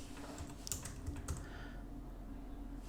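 Computer keyboard keys clatter in a few quick, quiet taps while someone works in CAD modeling software, followed by a stretch of faint background hum.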